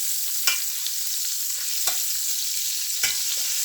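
A tadka tempering for saag sizzles hard in a pan, a bright continuous frying hiss broken by three sharp stirring scrapes at roughly even intervals, close and loud.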